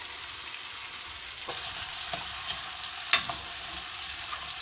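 Okra frying in a pan for Jamaican callaloo and saltfish, a steady soft sizzle with a few brief crackles and light stirring scrapes close by, with no talk.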